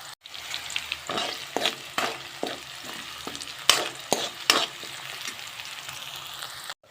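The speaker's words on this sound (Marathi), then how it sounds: "आता हा कांदा थोडा लालसर असा भाजून घ्यायचा आहे" Chopped onion sizzles and fries in hot oil in a pan for a wild vegetable dish, a steady crackling hiss broken by several sharp stirring scrapes and clatters.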